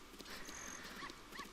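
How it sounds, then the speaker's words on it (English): A little dog following the player in The Legend of Zelda: Master Quest, giving faint, quiet game-style yips or whimpers along with soft trotting steps at low volume. "I might as well get this little doggy to follow me."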